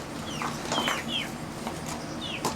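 Hens cluck in short, scattered bursts beside a farmyard goat pen on a morning feeding round, with soft squawks and calls over a steady background and no talk.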